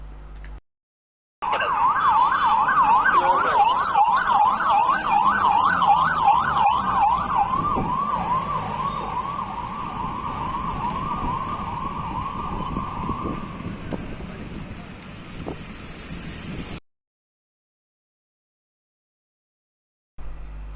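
An ambulance in Hyderabad carrying donor lungs races through traffic, its siren wailing in a rapid, repeating rise-and-fall that gradually fades, leaving road and engine noise before the sound cuts out.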